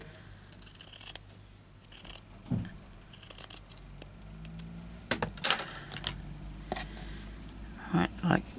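Scissors snip a small piece of paper during a junk journal craft, making several close, crisp cuts at uneven intervals, with a faint voice in the background.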